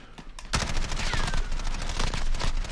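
Dense automatic gunfire from a Call of Duty match rattles out in a loud, continuous burst after a brief quieter lead-in.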